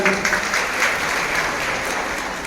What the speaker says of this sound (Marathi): तुम्हीच टाळ्या वाजून आपण सर्वांचं स्वागत करूया